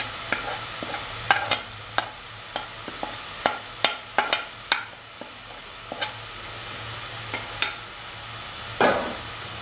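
Mutton keema paste being stirred with salt in a pan, a series of sharp spoon clicks and scrapes at an irregular rhythm over a faint, steady sizzle, with no voices.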